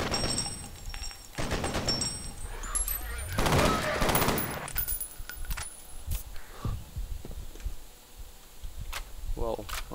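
Gunfire from the video game F.E.A.R., bursts of shots and rattling automatic fire with some impacts and movement, fairly loud and dense across the whole stretch, with no talk over it.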